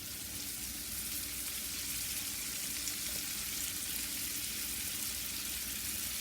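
Fennel sizzles and fries steadily in a pan over very high heat, a constant bright hiss with faint stirring, close and continuous with no voices.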